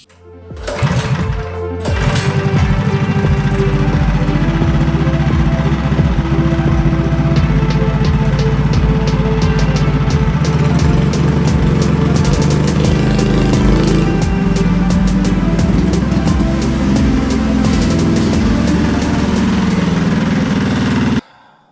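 A custom-built Moppy's Mega Moto motorcycle engine runs steadily on a test ride, a loud, close, continuous mechanical drone with rapid firing pulses that holds for about twenty seconds after a brief start-up, with no talking.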